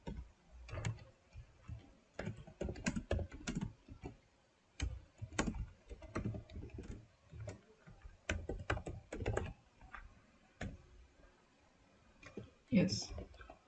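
Code is typed on a computer keyboard in irregular bursts of close, crisp key clicks, with short pauses between runs and a louder clatter near the end.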